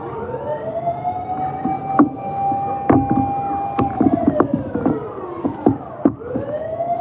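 A fire truck's wailing siren rises and falls close by, with clanks and knocks scattered through it and the truck rumbling underneath.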